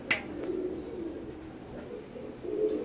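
A pair of Oman bloodline running pigeons coo in low, rolling calls over steady room noise, with a sharp click at the start and no talking.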